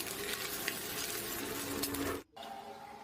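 Two eggs scramble in a pan, with a continuous sizzle and scraping stir for about two seconds before a sudden brief cut, then a quieter sizzle resumes. Faint and close, with no talk.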